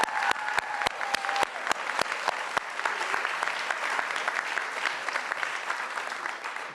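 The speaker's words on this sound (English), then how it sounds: "If we could have a round of applause for the graduating class of respiratory care" Audience applause for a graduating respiratory care class at a healthcare professions pinning and award ceremony, steady dense clapping from a large crowd with a few sharp, close claps standing out throughout.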